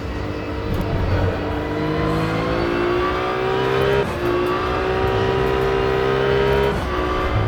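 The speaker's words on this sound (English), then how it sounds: "You can hear the transmission whine." A race car engine in the Rennsport sim racing game drones and climbs through gears, with a high rising transmission whine over the roar and brief dips at each shift.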